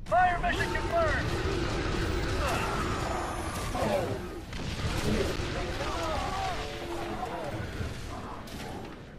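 Artillery fire mission in The Bureau: XCOM Declassified, heavy booming blasts and crashing impacts rumbling near and loud, mixed with shouted voices.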